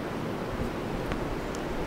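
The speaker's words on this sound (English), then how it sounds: "But this wind is absolutely crazy." Strong wind gusting over Lake Lemon during a bass fishing outing makes a steady, close, roaring rush with no voices.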